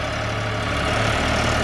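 A Shifeng 244 CL tractor engine idles steadily nearby, a continuous low, even rumble with no voices over it.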